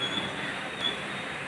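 The Ernad Express rolls into Tirur railway station with a steady, close rumble of wheels on rails, marked by two brief, thin squeals of the wheels.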